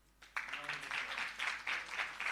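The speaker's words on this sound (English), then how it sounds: "A round of applause." Audience applause at an accreditation awards ceremony in Jamaica, with steady soft clapping from a moderately distant crowd in a hall that starts abruptly and continues evenly, with no talk over it.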